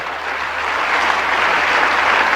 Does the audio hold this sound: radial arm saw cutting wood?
no